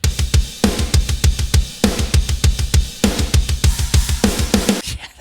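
A programmed metal-style drum pattern from the GetGood P5 drum library pounds with rapid double-kick bursts, snare hits and crashing cymbals in a tight, loud, repeating groove, with no talk.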